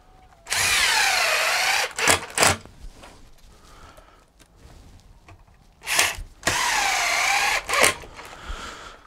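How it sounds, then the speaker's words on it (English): A power drill drives two screws into an outdoor power outlet box, two long whining runs close by, each followed by short spurts and clicks of handling. "we'll throw 2 screws into it now."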